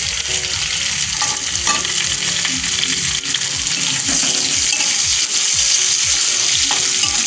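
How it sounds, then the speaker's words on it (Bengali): Chopped onion and garlic frying in a pan for a banana flower and prawn dish, a constant loud sizzle with repeated scraping strokes of a spoon stirring, no voices. "পেঁয়াজ লাল লাল করে ভাজা হয়ে গেছে"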